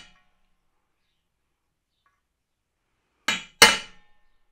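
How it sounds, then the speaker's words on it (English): Two sharp metallic hammer strikes on a center punch set into cast aluminum, close and loud, the second hit harder, after near silence. "we're going to center punch the ends of it for drill starts"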